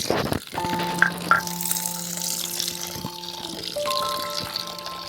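Fresh garden coriander leaves are swished and rinsed in water in a kitchen, with close splashing and trickling, a faint tonal hum in the background and occasional clinks.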